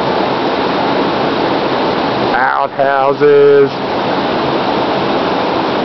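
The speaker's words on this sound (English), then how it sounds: "stop by the waterfall that is right in camp" A waterfall at a camp gives a loud, steady rushing roar throughout, briefly broken by a short burst of speech in the middle.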